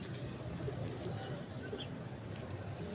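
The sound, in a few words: breeder pigeon cooing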